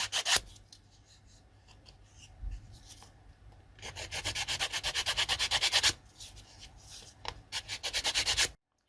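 Sanding an epoxy resin candle holder by hand, with long runs of rapid, rhythmic rasping strokes close up, broken by short pauses and no talk.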